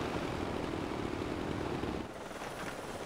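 A helicopter in Far Cry 4 produces a steady, broadband rotor roar, loud and continuous, easing slightly in intensity near the end, with no voices present.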